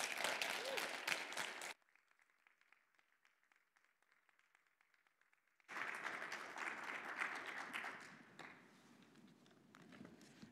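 Audience applause at an MLK celebration keynote event: a burst of clapping that stops abruptly, a quiet pause, then a second long round of dense clapping that gradually thins out.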